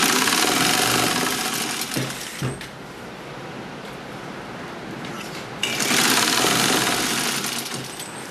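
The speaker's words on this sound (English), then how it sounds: "I'm gonna sew it all the way around" Sewing machine running steadily while stitching bug netting along the joined edge of a hammock, with loud continuous stitching bursts at the start and end and a quieter stretch between.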